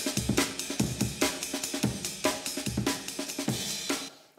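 Drum beat: a fast, syncopated breakbeat of crisp snare hits, kick drums and ride cymbal strikes. It loops steadily at moderate loudness with no talking, then cuts off at the end.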